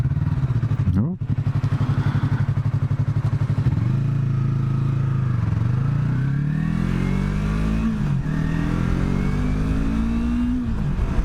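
A 2017 Yamaha YZF-R3 motorcycle engine drones and revs continuously while riding, the stock exhaust's pitch climbing and dropping with gear changes, loud and close throughout.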